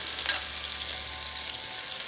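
Pieces of beef chuck, seasoned with salt and pepper, browning in a hot pan for beef bourguignon, giving a steady loud sizzle with scattered sharp pops and no talking.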